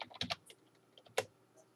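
Quiet clusters of quick keystrokes tap on a computer keyboard, a few bursts separated by a short pause, close to the microphone and without talk.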